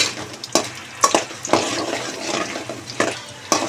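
Onion and green chillies frying in a pan, stirred with a spoon that scrapes and taps several times over a steady soft sizzle, close and clear, with no voices.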